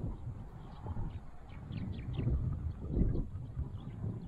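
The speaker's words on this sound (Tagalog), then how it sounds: "sobrang lakas ang hangin" Low rumbling strong wind buffets the microphone steadily outdoors by a road, with faint bird chirps high above the roar.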